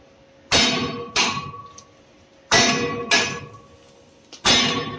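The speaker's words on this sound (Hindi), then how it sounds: "पंच करेंगे, पंच करके रिमूव करेंगे।" A hammer strikes metal hard, punching out a rotor bearing on a ring-hammer coal crusher at a thermal power plant: five loud ringing clangs, in two quick pairs and then a single blow.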